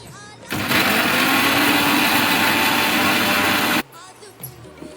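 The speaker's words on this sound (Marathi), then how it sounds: "आता हा मिक्सरला लावून घ्यायचा पहिला" A kitchen mixer grinder whirs loudly as it grinds coriander, green chilli and garlic into a paste for a crab curry, a steady motor roar lasting about three seconds, with quieter room sound before and after.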